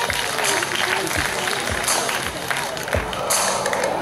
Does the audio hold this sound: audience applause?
yes